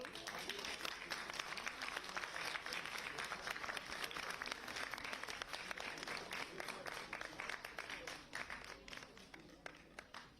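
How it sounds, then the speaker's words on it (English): Audience at the convocation ceremony of Gunvatta Gurukul's inaugural batch keeps up sustained, crackling applause, thick with individual claps, tapering slightly toward the end, with some voices faintly mixed in. "Please keep the applause ringing."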